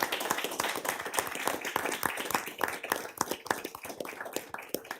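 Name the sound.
applause for Paul at council meeting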